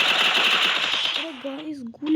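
Rapid automatic gunfire in a video game, a dense fast burst of shots filling the first half before trailing off, followed by a short tonal game sound.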